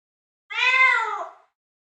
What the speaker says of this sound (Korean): 눈 속에 파묻혀 떨고 있는 것은 새끼 고양이였습니다